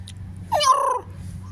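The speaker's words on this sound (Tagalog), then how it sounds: "lalaking pusa na lumalandi" A male cat gives a single short, rising-then-wavering yowl, a mating call, close and fairly loud against low background rumble.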